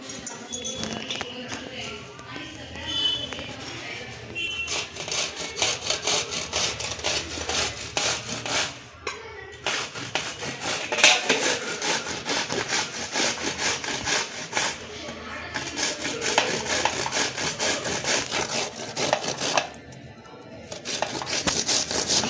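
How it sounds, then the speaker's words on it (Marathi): Ridge gourd is rubbed against a hand grater in a home kitchen, making continuous rhythmic rasping strokes close to the microphone with brief pauses, while someone talks over it. "आता हे खिसून घेऊया खिसणीने।"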